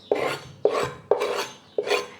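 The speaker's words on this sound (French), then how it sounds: "on commence donc par hacher le chocolat" A knife chopping chocolate on a board, four crisp crunching strokes at an even pace, each a sharp bite followed by a short rasping scrape, close and clear with no voices.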